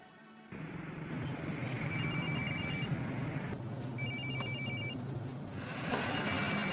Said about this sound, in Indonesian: HP-nya bunyi, bos.